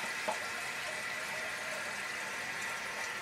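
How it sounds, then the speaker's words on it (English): Cold water pours steadily into a pan with a soft, continuous rushing splash, quiet and close. "you can just pour cold water in it"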